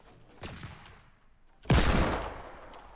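Gunfire in the video game Fortnite: two sharp shots, a lighter crack near the half-second mark and then a loud, close blast at about 1.7 seconds with a booming tail that fades slowly, over quiet game ambience and no talk.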